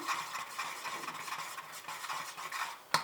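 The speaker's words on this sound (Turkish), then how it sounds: "Bir küçük kase de ceviz ekliyorum ve birlikte karıştırıyorum." Walnuts being stirred into a vanilla-flavored dessert mixture in a bowl, giving a steady scraping, rustling churn for about three seconds with a sharper clack near the end; no talking.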